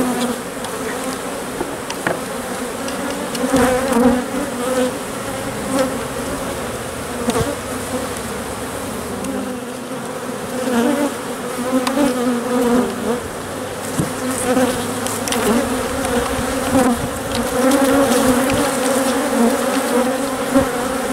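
Honey bees in an opened hive that is preparing to swarm with queen cells make a dense, continuous close-up buzz. The pitch wavers gently as the bees move, and no voice is heard over them.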